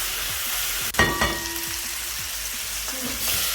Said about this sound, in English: pan fry the meat because this is mbuzi and it will cook faster here compared to the oven